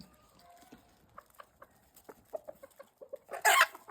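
Large yard-bred hens of mostly brown red stock clucking close by in a barn, a series of short irregular clucks building to a louder squawking burst near the end.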